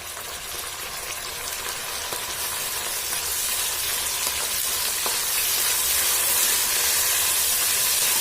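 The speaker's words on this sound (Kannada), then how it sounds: "ಮೆಂತ್ಯ ಸೊಪ್ಪನ್ನ ಸರಿಯಾಗಿ ಫ್ರೈ ಮಾಡ್ಕೊಳ್ಳಿ ಎಣ್ಣೆಯಲ್ಲಿ" Fenugreek leaves and onion frying in oil for menthya pulao, a dense continuous sizzle and hiss that grows slightly louder, close up with faint stirring and no talk.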